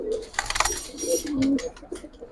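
Giribaz pigeons coo up close, soft low throaty calls repeating over a few seconds amid light rustling and clicking sounds.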